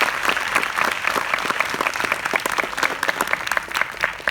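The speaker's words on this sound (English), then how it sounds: "So give an applause for Sam Chui." Audience in Jakarta applauding aviation YouTuber Sam Chui, a steady burst of dense clapping from a crowd lasting several seconds at moderate volume.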